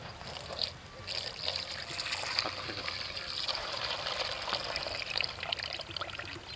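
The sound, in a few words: pouring milk over ice for sharbat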